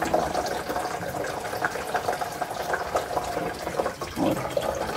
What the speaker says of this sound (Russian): Надо обязательно выливать всю-всю-всю воду.